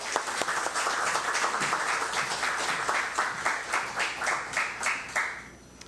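A church congregation at a Korean-language Sunday worship service in Osaka applauds, with steady massed clapping for about six seconds that swells into rhythmic pulses before ending.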